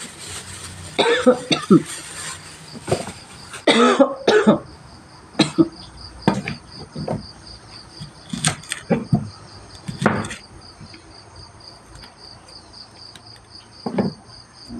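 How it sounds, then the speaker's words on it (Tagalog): A person coughs repeatedly in harsh bursts, some in quick clusters, while insects chirp steadily in the background of a quiet room. "Uso ngayon, guys, ang ubo."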